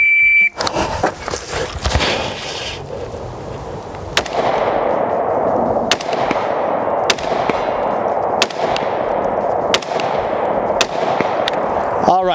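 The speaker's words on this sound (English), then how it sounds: "took me six shots to get three" Six sharp gunshots fired from a standing position at three targets, evenly spaced a second or two apart, each with a ringing decay, loud and close, with handling noise and low background rumble beforehand.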